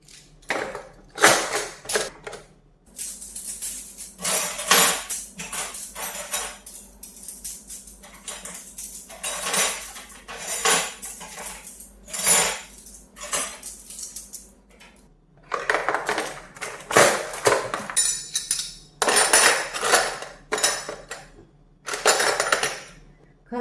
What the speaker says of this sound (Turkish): Ve en üst çekmecede çatal ve kaşıklarımı koyacağım.